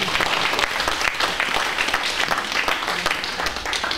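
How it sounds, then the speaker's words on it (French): An audience applauds steadily for several seconds, a dense, even clapping that fills the whole stretch with no other sound standing out. "On peut l'applaudir même si elle n'est pas là."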